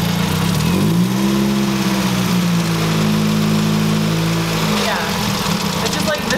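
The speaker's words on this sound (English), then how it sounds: "The engine sounds healthy." A Ford Focus engine idles steadily and loud up close after sitting unused for two years, with a pitch shift partway through and loose parts rattling; no one speaks over it.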